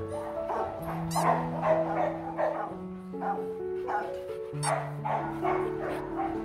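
A Rottweiler barks and yips repeatedly with excited, uneven bursts and some whimpering, close and fairly loud, with a voice talking underneath.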